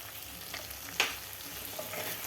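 Eggs frying in masala in a kadai while being stirred, a soft steady sizzle with a sharper scrape of the spoon against the pan partway through, and no talking.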